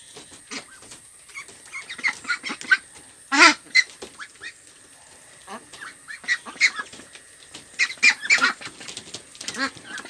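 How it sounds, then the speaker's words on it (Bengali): A flock of Pekin ducks on a farm being chased for weighing, loud nasal quacks and honks bursting out in irregular clusters, several birds calling close by over a quiet background. "হাঁসগুলো সব বড় হয়ে গেছে আর সব চালাক হয়ে গেছে এই হাঁসগুলো ধরা যাচ্ছে না"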